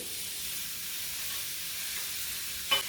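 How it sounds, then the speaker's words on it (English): A steak seared bottom side down in a pan over medium-high heat gives a steady, faint sizzle and hiss throughout, with one brief louder spatter near the end. "Now I'm going to let this sear for about 2 minutes."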